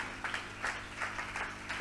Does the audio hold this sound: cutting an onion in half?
no